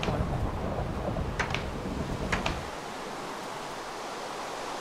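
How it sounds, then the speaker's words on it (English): Thunderstorm in the video game Minecraft, a steady wash of rain-like noise with a rumble of thunder that fades away, plus a few faint crackles. "It's still lightning."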